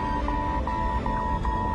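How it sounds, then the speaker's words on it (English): In an aircraft cockpit, an autopilot disconnect alarm sounds as a steady tone that pulses in short repeated beeps over a loud, constant engine and cabin rumble. "an alarm begins to sound. It signals the complete shutdown of the autopilot"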